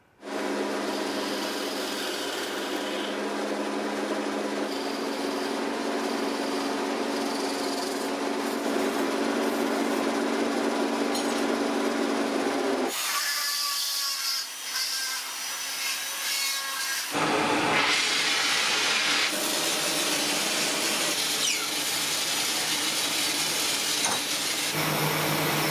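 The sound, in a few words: lathe turning a wooden dagger handle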